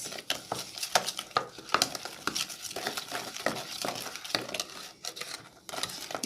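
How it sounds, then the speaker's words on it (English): Pumpkin leaves cake batter being stirred and mixed in a bowl, with a steady run of clinking, scraping utensil strokes at an irregular but continuous rhythm, close and fairly loud, with no talking. "mix your ingredients very, very well."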